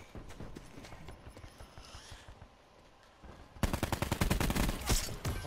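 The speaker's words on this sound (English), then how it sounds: "This is a tier 100 gun. This is how it shoots." An assault rifle from Black Ops 4 fires in a loud, rapid automatic burst of evenly spaced cracks that starts abruptly after a quieter stretch of scattered game noise and runs to the end.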